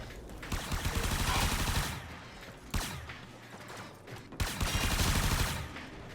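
Supra Vandal weapon emptying its magazine in a video game: three long sustained bursts of rapid automatic fire separated by brief sharp breaks, loud and close.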